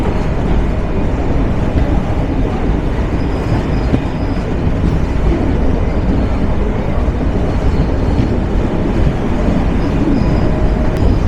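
A running Nilsagar Express train rumbles steadily and loudly throughout, with a continuous rolling roar and a faint clickety-clack of wheels on rails, no voices.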